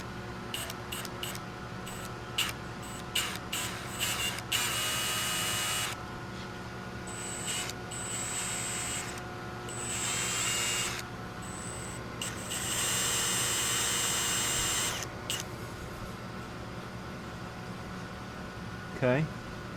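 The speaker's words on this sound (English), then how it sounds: "So I'm just taking a 1/4 inch drill bit right here to the center" A 1/4 inch drill bit bores into the metal of an OBS Chevy truck, giving loud, harsh, high whining bursts that start and stop in several spells over a steady shop hum.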